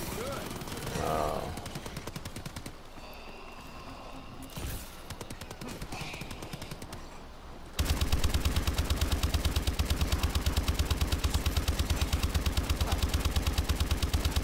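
An LMG fires in a zombie map video game, starting with scattered shots under game noise, then turning into a loud, continuous rapid burst of automatic fire for the second half.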